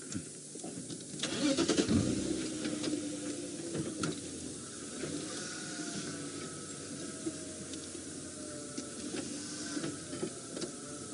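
A safari game-drive vehicle's engine starts near the microphone and settles into a steady mid-pitched idle and rumble, with no talking.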